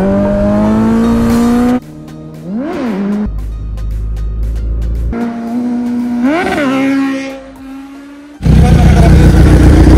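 Kawasaki Z900 motorcycle revving hard and passing by, engine pitch rising and falling through gear changes, loud and close with a sharp burst near the end.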